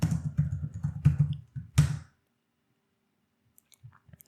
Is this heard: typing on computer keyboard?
yes